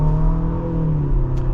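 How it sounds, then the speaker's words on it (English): A 2025 Infiniti QX60 with a four-cylinder turbo engine accelerates at half throttle, a steady, loud engine drone with a low rumble and a faint rising whir, heard from inside the cabin with no talk. "Just giving it half throttle,"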